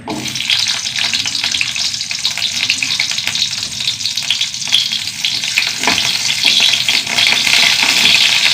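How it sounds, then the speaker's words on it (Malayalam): Coconut roasting in a pan gives a steady, dense sizzle and crackle that holds loud and even throughout, with faint scraping as it is stirred and no voices. "തേങ്ങയൊന്ന് വറുത്തെടുക്കാം"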